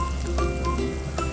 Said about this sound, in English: Sauté garlic.